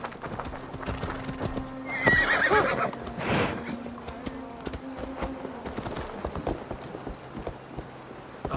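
Horse in the game Assassin's Creed Valhalla, hooves clip-clopping steadily at a gallop while the animal lets out a clear neigh partway through, over a faint buzzing of insects in the background.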